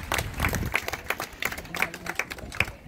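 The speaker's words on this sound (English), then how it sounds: "How about a big round of applause for Papaya," Scattered applause from an audience at a live bird show featuring a chestnut-mandibled toucan, irregular claps rising and falling over about three seconds at moderate distance.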